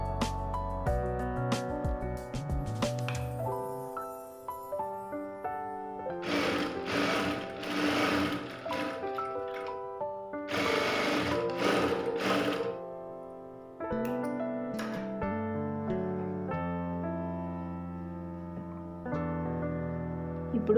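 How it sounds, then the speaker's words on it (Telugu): Sewing machine stitching the lining of a blouse, a close, fast mechanical whirring that runs in bursts with short pauses between them, with a faint voice in places. "ఇప్పుడు ఒక సైడ్ దానికి చేసాం కదా, అలాగే దీనికి కూడా స్టిచ్చింగ్ చేసుకోవాలి."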